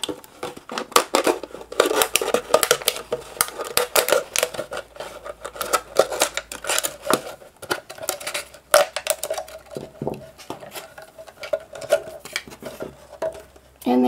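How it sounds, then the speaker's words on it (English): A craft knife cuts apart a plastic water bottle, making close, crackly bursts of clicking and scraping plastic in an uneven rhythm that fills the whole stretch. "All you need to do is to cut it apart using a craft knife."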